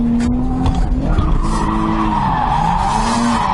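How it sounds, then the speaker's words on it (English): Nissan 240SX drifting without a handbrake, tires skidding and squealing loudly and continuously over a droning engine, with pitch sweeping up and down as the car slides through the corner. "Doing some skids."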